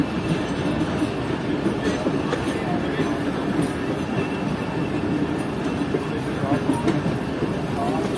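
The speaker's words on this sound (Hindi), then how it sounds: "वो ट्रेन जो हमारी प्लेटफॉर्म नंबर 4 से निकल कर आ रही है मेन लाइन पर" Train pulling out of platform 4 at a large junction yard onto the main line, heard from Pakistan's first privatized rail car between Lahore and Rawalpindi as a steady, moderate rolling rumble with faint clatter and occasional speech underneath.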